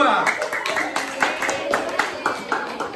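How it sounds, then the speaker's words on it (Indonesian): A classroom of students claps for a group that has just finished presenting, with uneven overlapping hand claps throughout under nearby talking. "baru tepuk tangan untuk kelompok 2"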